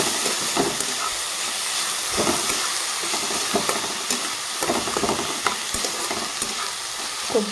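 Vegetables and salted tomato being stirred in a hot pan, a continuous sizzle broken by repeated scraping and clacking strokes of the spatula, close and fairly loud with no voices.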